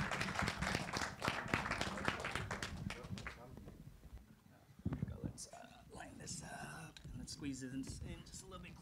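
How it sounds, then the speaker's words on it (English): An audience applauds for the director, actor and cinematographer of the film 'Cherry', with dense clapping for about three seconds that fades as people begin talking. "Round of applause."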